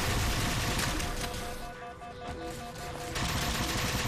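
Rapid turret gunfire in the Halo 4 campaign, a dense, continuous burst of automatic shots that briefly thins out before resuming at full intensity.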